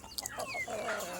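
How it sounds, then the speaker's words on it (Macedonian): Backyard hens giving a quick burst of clucks and rising squawks, close and fairly loud, over in about a second. "Имамо овде кокошки"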